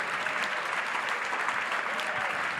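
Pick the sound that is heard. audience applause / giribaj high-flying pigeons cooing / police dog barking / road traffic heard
audience applause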